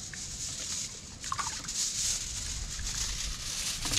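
Chickens crowded into a cramped coop keep up a dense, continuous clucking and chattering, close and busy throughout with no pauses.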